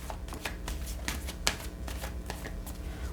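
Tarot cards are shuffled in a soft, continuous riffle of papery slaps and flicks, close and quiet, with no talking.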